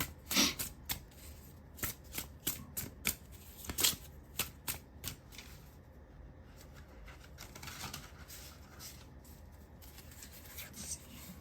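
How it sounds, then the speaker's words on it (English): Tarot cards being shuffled in quick bursts of riffling and flicking, close and crisp, with quieter rustling toward the end. "let's shuffle the cards and see what comes out for you."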